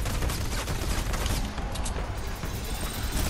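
A snowball launcher fires in Fortnite, sounding as a dense, continuous barrage of loud, rapid, punchy bursts packed close together for several seconds with no gaps.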